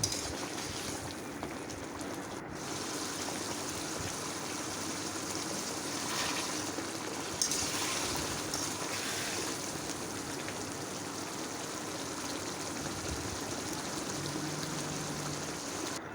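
A pot of koi tel curry boils with fried koi fish just added to the water, giving a steady bubbling hiss that goes on evenly with no one speaking.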